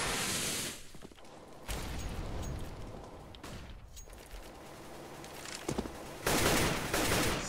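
Rapid automatic gunfire from AK rifles, SMGs and an M4 in a competitive Counter-Strike match on the Cobble map, with dense overlapping bursts and shots at varying distances, dropping briefly and then surging loud again near the end.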